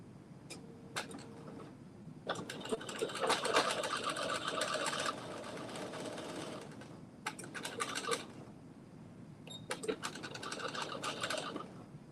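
A sewing machine stitches fabric in several short, uneven runs of quiet rapid clattering, broken by brief pauses and scattered clicks, with no voices.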